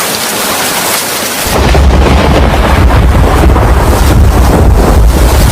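Heavy rain and rolling thunder in an animated cartoon scene, quiet for the first second and a half, then a loud, steady roar of rain with deep thunder rumbling underneath throughout.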